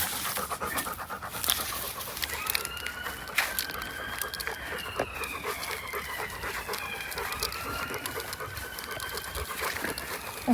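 Dog on a lead panting steadily and quickly at close range outdoors on a steep orchard slope, with a rooster crowing repeatedly in the background.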